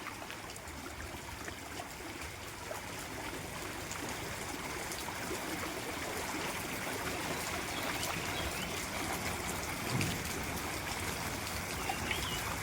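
Rainwater runs steadily through a small farm stream channel after heavy rain filled the pond, a continuous close trickling rush with faint birds in the background.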